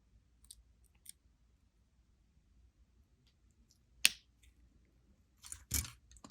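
Wire cutters snip off excess wire from a wire-wrap station necklace, giving a few small sharp clicks with one crisp, louder snap near the middle and another toward the end, against near silence.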